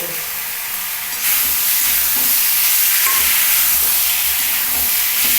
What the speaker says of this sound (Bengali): টক দইটা আমি একটু এটার সঙ্গে মিক্স করে দেবো